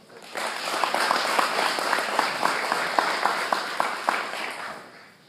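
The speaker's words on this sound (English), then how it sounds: "So let's just give him a round of applause." Guests at a graduation luncheon give a round of applause, steady clapping that swells in and fades out, with a few sharp individual claps standing out near the microphone.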